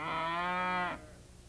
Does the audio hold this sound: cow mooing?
yes